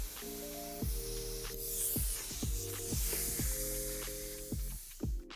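An Anest Iwata LPH 80 spray gun sprays at low pressure, around 1 to 0.5 bar, giving a continuous airy hiss. Repeated tonal sweeps that slide downward sound alongside it, and no voice is heard.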